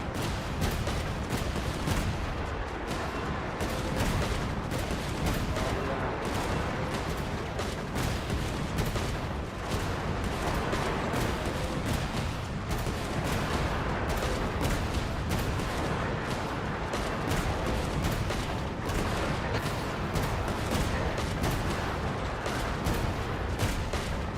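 Cannons fire in Genshin Impact, a sustained barrage of dense, overlapping booms and crackling blasts rolling on for over twenty seconds at steady loudness, with no talk.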